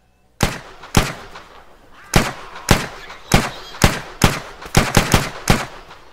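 Gunshots ring out in DayZ, about a dozen sharp, loud single reports fired at uneven intervals, spacing out early and then clustering into quick bursts toward the end, each with a short decaying tail.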